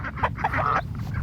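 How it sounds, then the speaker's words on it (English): Several homestead ducks quack loudly and close in a quick burst of overlapping calls, with no speech over them. "These ducks are so loud when they're out here. You can just hear them."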